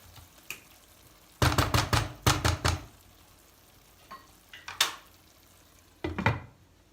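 Stuffed pepper filling is stirred lightly in a pot, with a few short bursts of scraping and clinking spoon strokes separated by quiet pauses, close by with no talking.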